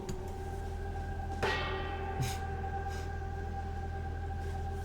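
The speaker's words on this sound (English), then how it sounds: "let's hit the gong" A gong struck once in an animated show, a sharp metallic onset followed by a long shimmering ring over a steady background hum, with a second softer hit shortly after.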